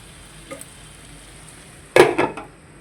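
Potato and fenugreek leaves cooking over a low flame in a pan, a quiet steady sizzle broken by a faint stir near the start and two louder scraping, stirring bursts toward the end.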